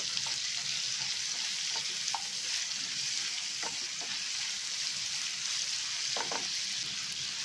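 Onions frying in a pan for a prawn fry, giving a steady, close hiss of sizzling oil throughout with a few faint spoon taps and scrapes scattered across it, no talking.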